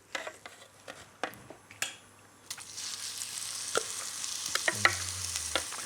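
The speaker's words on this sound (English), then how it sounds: "when I fry up my paste" A few scattered clicks and taps come first, then a paste for Cantonese-style beef spare ribs begins to fry in a pan. A soft, steady sizzle builds and holds, with occasional clinks of a utensil against it.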